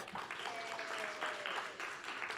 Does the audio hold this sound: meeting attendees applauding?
yes